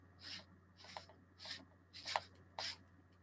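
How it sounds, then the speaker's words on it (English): Gas mask filter being screwed in, its threads giving several soft, short scraping rubs in an irregular rhythm, close and faint, with no talk. "I'm going to assume that's doing ever so slight scraping there"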